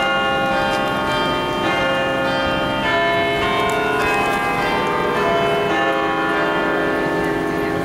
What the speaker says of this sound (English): we got here just in time to hear the bells